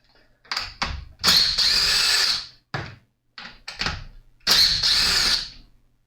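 Screws are backed out of a Stihl FS55R weed trimmer with a power drill, several whirring bursts of varying length separated by pauses, close and loud.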